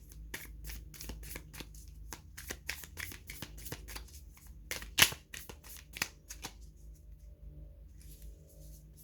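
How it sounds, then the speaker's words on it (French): Tarot cards are handled and drawn at close range, making quiet, crisp taps and snaps at an uneven pace, with one sharper slap partway through. "Et je vais prendre 3 cartes ici et on commence."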